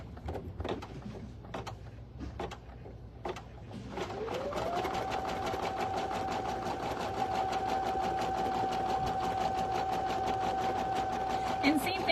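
An embroidery machine tacks down fabric for an in-the-hoop stuffed toy, speeding up into a steady, rapid needle rattle with a high whine that runs on continuously. Scattered knocks and talk come before it starts.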